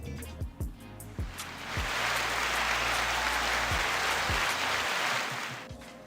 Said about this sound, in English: Let's go ahead and give him the hand clap.